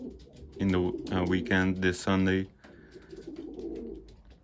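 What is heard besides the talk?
racing pigeons cooing in loft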